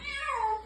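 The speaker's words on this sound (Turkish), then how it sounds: "Bak miyav dedik miyav. Nasıl bir kere miyav dedi." A single rising-and-falling meow from a street cat being cared for after treatment, close and clear with no talk over it.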